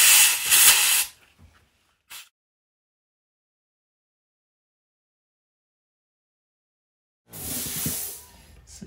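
A compressed-air nozzle blasts grease from a rear linkage bearing on a Montesa Honda trial motorcycle. Two loud, close hissing bursts frame a long silence, with a short puff of air between them.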